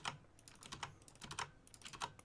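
Fast, irregular typing on a computer keyboard, with quiet clicky keystrokes in quick bursts and no voices.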